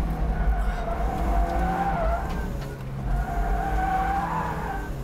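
Yokohama Advan Neova hybrid radial tires squealing and skidding on a race track as a car slides through corners, with wavering tire screech over steady loud engine drone, sustained throughout and surging in two long bursts.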